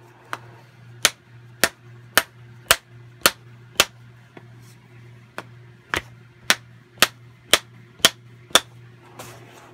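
The head of a Proto octagon ball-peen hammer is struck from below, giving about fifteen sharp, ringing metal blows in a fairly even rhythm with short pauses, loud and close over a faint hum.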